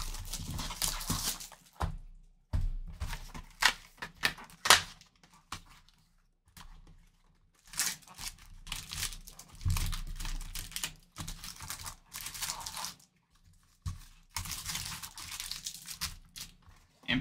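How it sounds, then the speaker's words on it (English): Plastic shrink-wrap is torn and crinkled off a box of 2022 Topps Chrome Sonic baseball cards, coming in close bursts of crackling and tearing broken by short pauses, with no talking. "Plastic coming off."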